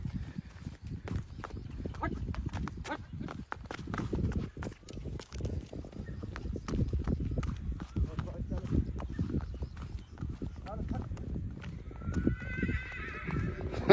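Horse being trained in gait, with hooves clip-clopping steadily throughout and a neigh calling out near the end, under ongoing talk.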